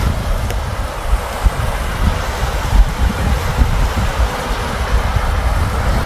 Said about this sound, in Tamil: அதான் ஃபால்ஸ். சவுண்டு கேட்குது அவங்களுக்கு?